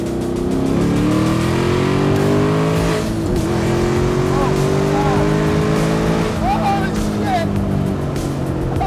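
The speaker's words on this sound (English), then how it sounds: "It's the fastest Miata I've ever been in." Tuned 450 hp Mazda Miata accelerating hard from inside the car, a loud sustained engine howl climbing through the gears with brief shift breaks, and passengers exclaiming faintly underneath.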